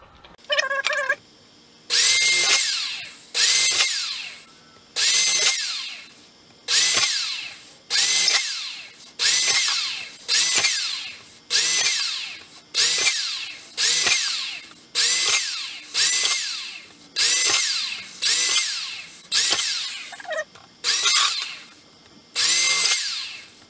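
A power drill bores holes around the edges of a metal piece for a DIY smoke machine build, sounding as a long series of loud, close, whining bursts, each a second or so long, separated by short pauses.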